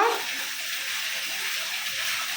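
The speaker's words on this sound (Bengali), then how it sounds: "কলটা কলটা বন্ধ করো" A bathroom water tap runs steadily, a continuous close rush of water with no pauses from start to finish.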